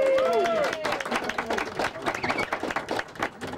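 Audience applause at the Boston Main Streets awards as Bowdoin Geneva Main Streets is recognized, a steady wash of many hands clapping close by, mixed with crowd murmur and a brief whistle-like tone at the start.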